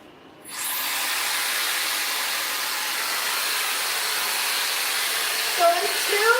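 A hair dryer switches on abruptly and runs with a steady, loud airy whoosh while diffusing tight wavy to loose curly hair, with a brief faint squeak of handling near the end.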